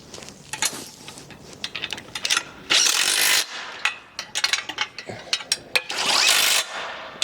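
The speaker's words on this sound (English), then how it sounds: "We'll go ahead and tighten those down next. And this is going to be your 17mm socket and wrench." A 17mm socket wrench ratchet tightens bolts on an Inspire M2 home gym, giving rapid bursts of metallic clicking pawl sounds, close and loud, with brief pauses between strokes and no voices.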